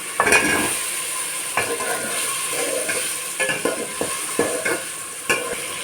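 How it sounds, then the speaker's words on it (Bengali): Drumstick pieces and potatoes tumble into a sizzling pan of thin katla fish curry with turmeric spice, raising a loud hiss, then continued frying crackle and several sharp clatters of a spoon against the pan. "সজনা আর আলুটাকে ঢেলে দেবো"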